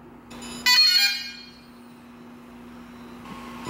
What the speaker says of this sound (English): You can hear the Inspire beeping.